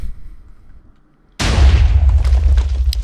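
A TNT cannon in a block-building game blows up all at once, a quiet lead-in broken by a sudden loud, close boom with a long rumbling tail and crackling debris.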